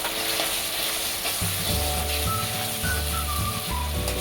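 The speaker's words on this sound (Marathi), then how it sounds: "मसाले थोडंसं अद्रक लसूणची पेस्ट टाकून घेतली आपण, ती परतून घेऊ." Ginger-garlic paste and spices sauté in a pan for kobi rice, a loud, continuous sizzle close by with low stirring scrapes coming and going underneath.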